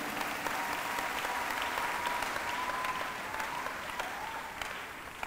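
Church congregation clapping, a sustained wash of applause from a crowd in a hall that stays steady and then eases slightly toward the end, with a faint voice underneath.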